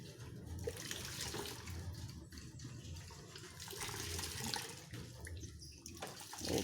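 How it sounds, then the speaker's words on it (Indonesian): A traditional tofu press squeezes boiled soybean pulp to extract soy milk, giving a faint, continuous wet rush of liquid with a steady flowing texture. "ini alat pemerasannya. Untuk memeras sari kedelai, sari patinya ya, sari pati kedelainya ini."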